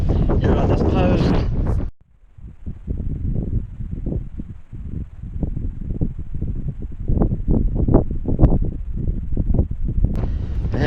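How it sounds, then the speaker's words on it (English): Strong wind buffets a microphone outdoors at an RV stop in San Antonio, Texas, producing loud, gusty low rumbling bursts that dominate most of the clip after a brief dip. "sorry, this wind is terrible."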